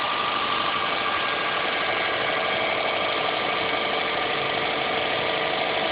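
A 2006 Saab 9-2X Aero runs at a cold start with a steady, close idle that has a faint knocking tick in it, and no one speaks.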